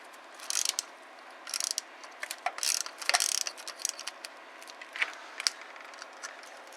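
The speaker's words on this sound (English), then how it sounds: "So you can go ahead and take them out with the same socket." A ratchet socket wrench backs hold-down bolts out of a Cummins common rail diesel engine, giving bursts of quick, close ratcheting clicks with short pauses between strokes.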